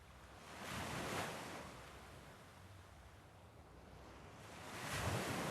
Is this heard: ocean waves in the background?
yes